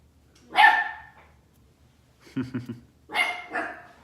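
A dog indoors barks loudly two or three times, with a short cluster of lower yips between the main barks and no talk over them.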